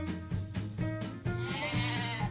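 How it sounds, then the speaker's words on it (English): Sheep bleating in a series of loud, close, repeated calls with a steady rhythm and no talking. "You can buy the sheep."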